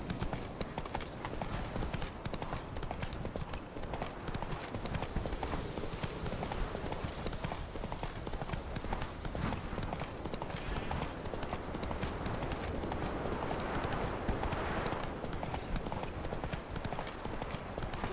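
Rapid, continuous hoof clip-clop of a horse galloping in the video game The Witcher 3, steady and loud throughout with faint background noise.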